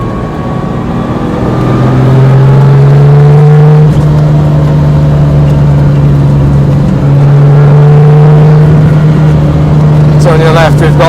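A Lamborghini Miura engine drones steadily from onboard, rising into a strong rev around two seconds in and holding a loud, steady hum, with a brief clunk near the four-second mark.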